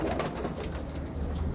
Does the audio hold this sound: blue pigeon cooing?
yes